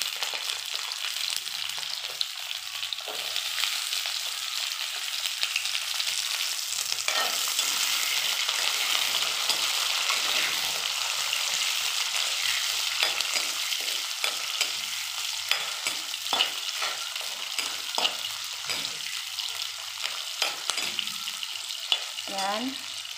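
Small onions and curry leaves sizzle in hot oil for a tomato chutney, a steady bright frying hiss with occasional stirring scrapes and a brief voice near the end.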